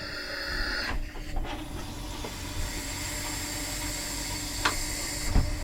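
Compressed air forced through a camper's shower head while winterizing the water lines, a steady loud broadband hiss with brief sputtering bursts as water is blown out, heard alone.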